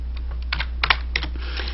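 Java code being typed on a computer keyboard: a quick, uneven run of close, crisp keystrokes with no talking.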